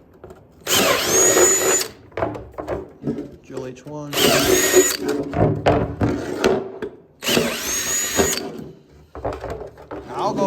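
A power drill with a 21/64 bit bores holes through a steel kart frame, three loud whining bursts of about a second each spaced through the stretch, with someone talking between and over them.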